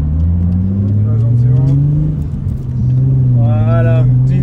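BMW E30 fitted with a 3.5-litre six-cylinder engine from a 535i revs up loud and close. A deep engine note climbs, dips briefly, then rises again in a second rev.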